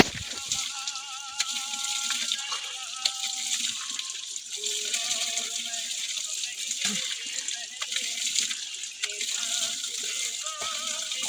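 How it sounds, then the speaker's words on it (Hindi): Mountain stream in the hills near a Himalayan temple, a steady broadband rush of flowing water running throughout, moderately loud, with faint voices and small clinks at times. "चलिए फ़िलहाल आपको एक धारा दिखाते हैं"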